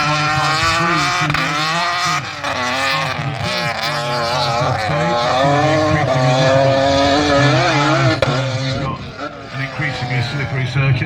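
Modified rear-wheel-drive race cars, including a Vauxhall in the Modified 3 class, accelerate up a slippery hill climb course, giving a loud, steady engine roar with rising and falling pitch that runs under continuous commentary.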